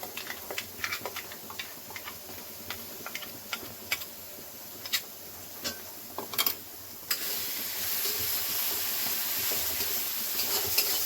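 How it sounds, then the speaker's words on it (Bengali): Ground poppy seed paste (posto) is frying in oil for a Bengali aloo posto. Scattered spoon taps and clicks come first, then a close, steady sizzle swells up and keeps building toward the end. "কিছুক্ষণ ভেজে নেব পোস্তটা"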